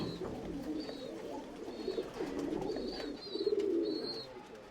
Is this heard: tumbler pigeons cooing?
yes